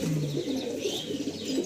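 Teddy pigeons coo in short, repeated, throaty phrases, close and clear, with no talking over them.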